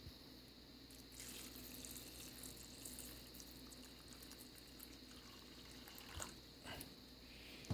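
Tap water runs steadily into a pot of soaked beans, a continuous close splashing rush that holds throughout with small surges near the end.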